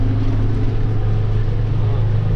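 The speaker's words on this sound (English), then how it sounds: "It's a handy all-around tractor." A farm tractor engine idles close by, a steady low droning rumble with a constant hum and no rise or fall over a couple of seconds.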